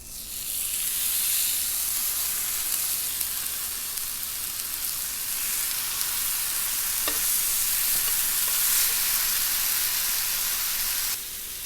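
Pork belly and aged kimchi sizzle steadily in a pan, a loud, even crackling hiss that continues throughout with no voices.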